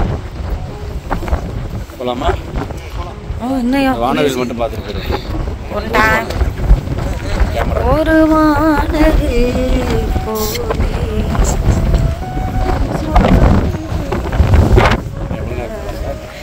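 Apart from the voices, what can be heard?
strong wind on a beach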